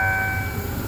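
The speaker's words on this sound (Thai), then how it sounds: "ตอนนี้เราก็มาชมรถธรรมดาที่234สุรินทร์กรุงเทพนะครับผมได้ยินเสียงนะครับมาจากทางฝั่งสถานีผาเสด็จ" Thai ordinary passenger train 234, from Surin to Bangkok, approaching Pha Sadet station in Saraburi, a steady tonal sound with a low rumble and no voices.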